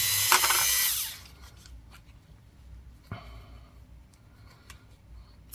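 A Dremel rotary tool cleans up a brass coin ring made from a three pence coin: a loud, close, high whir for about a second that then cuts off, followed by quiet faint clicks and handling.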